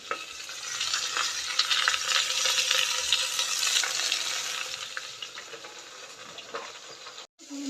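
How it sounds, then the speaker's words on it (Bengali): Cauliflower sizzles and crackles steadily in oil inside a pressure cooker, a close, busy frying hiss with occasional stirring scrapes that stops abruptly near the end. "এই যে প্রেসার কুকারে ফুলকপি দিয়ে দিই"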